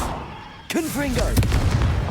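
Confringo fire-blast spell cast in the video game Hogwarts Legacy, a sharp booming impact followed by rumbling bursts and combat effects, with a voice calling out over the action.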